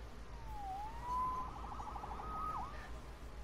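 A faint police siren in the video game Spider-Man PS4 wails and warbles over a low background hum, rising and falling a few times.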